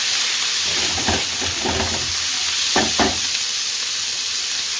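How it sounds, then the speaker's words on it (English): Ginger and garlic sizzle steadily in a hot pan with a constant hiss, broken by a few louder bursts as they are stirred. "Just sizzle it off until you can't smell the aroma."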